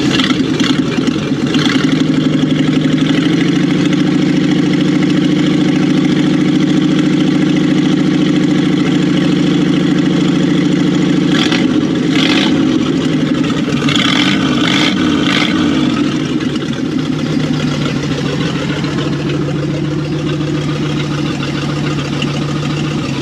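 A 1959 Ford F250 4x4 truck engine runs steadily and close by for the whole stretch, with a loud, even low rumble that shifts in pitch partway through. No one speaks.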